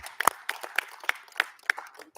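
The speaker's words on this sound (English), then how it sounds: "So round of applause, please, for them." Scattered, sparse hand claps from the audience at a school district board of education meeting, a handful of separate claps over a couple of seconds, fairly faint in a quiet room.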